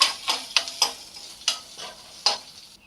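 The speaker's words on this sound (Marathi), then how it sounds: "त्याच्यामध्ये अद्रक आणि लसूण जे ठेचून घेतलं होतं ते टाकून घेऊ आणि हिरवी मिरची त्याच्यामध्ये टाकून घेऊ याला पण तेलामध्ये थोडा वेळ आपण होऊ देऊ" Crushed ginger, garlic and green chili frying in oil in a pan: a soft sizzle under a series of quick, close spatula scrapes and stirs in uneven rhythm, with no speech.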